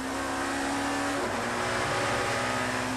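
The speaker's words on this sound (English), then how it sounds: "Calmly jockeying the BMW round that very tight right-hander, keeping the gap between himself and Hoy." BMW touring race cars brake hard and power round the tight Druids right-hander in a 1993 BTCC race, engines roaring loud and close with a falling then rising pitch and a faint tire squeal.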